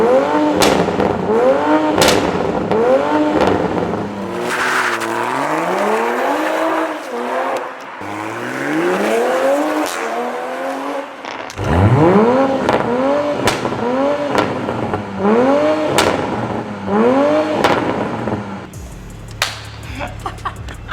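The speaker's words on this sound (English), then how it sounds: "The motor sounds incredible." A stock car engine revs hard again and again, pitch climbing and dropping through repeated gear changes, loud and close, with occasional tire squeal.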